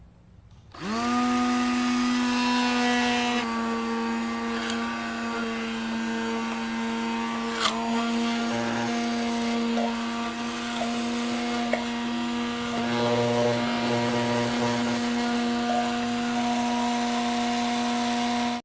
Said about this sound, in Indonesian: Selanjutnya untuk adonan ketiga ini dilakukan pengadukan dengan mixer selama 10 menit.